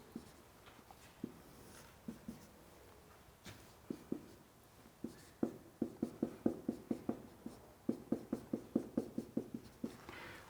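Pen or chalk strokes of a sketch drawn during a university lecture, with scattered scrapes giving way to a quick, rhythmic run of tapping, scratching marks close by, with no talking.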